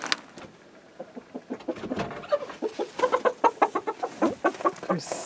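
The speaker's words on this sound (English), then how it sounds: "Moving the blue rooster, the one that we kept from last year's breeding season because he's lovely, he's moving to a new bunch of ladies tonight" Blue rooster clucking and squawking in short repeated bursts while being picked up and carried to a new flock at night, close and fairly loud, growing more agitated toward the end.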